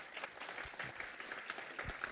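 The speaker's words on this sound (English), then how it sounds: "Give another big round of applause for Jeremy." Meetup audience applauding a speaker after a talk, a short burst of steady clapping from a modest crowd indoors, even and unbroken for a couple of seconds.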